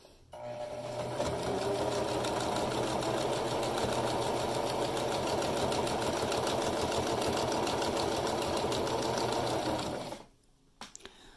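A sewing machine stitching the edge of a fabric mask runs in one steady, fast, close mechanical whir for about ten seconds, then stops abruptly and leaves a few faint clicks.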